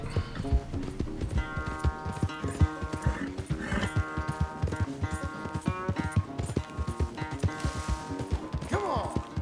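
Horse hooves clip-clop in a video game corral, a fast, loud, irregular run of hard hoof strikes mixed with bright tonal game music and a brief whinny-like sound near the end.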